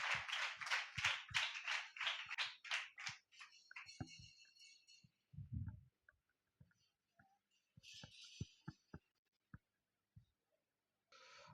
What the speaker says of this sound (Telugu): అందరూ క్లాప్స్ కొడదాం.